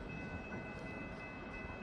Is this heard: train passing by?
yes